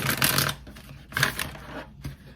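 Tarot cards shuffled by hand in a humid Florida room, two bursts of brisk papery riffling about a second apart, close and fairly loud, with a quieter patter between them.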